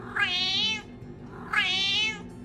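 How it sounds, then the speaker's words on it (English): A domestic cat meows twice, each call drawn out and fairly loud and close, with a short quiet gap between them and no other sounds. "you might even spot a cat with an accent"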